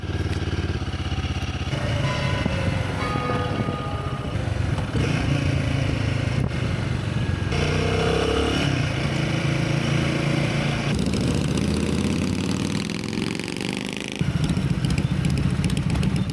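Motorcycle engine heard from a chin-mounted helmet camera while riding, a steady droning rumble with shifting pitch as the bike accelerates and settles, wind noise mixed in, loud and close throughout.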